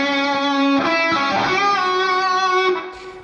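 An electric guitar with distortion plays a short sustained lead phrase from a solo, with bends and slides, loud and close, fading at the end.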